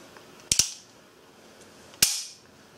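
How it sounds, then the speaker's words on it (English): Metallic mechanism clicks from a Beretta 92FS pistol as its decocker safety is worked: a sharp double click, then a single crisp snap about a second and a half later, close and alone in a quiet room. "The firing pin rolls out of position when the safety is turned on."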